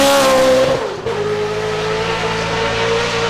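Naturally aspirated 5.2-litre V10 car accelerating hard at the Goodwood Festival of Speed 2025, a loud, close high-pitched wail that dips at a gear change and then climbs again, no talking.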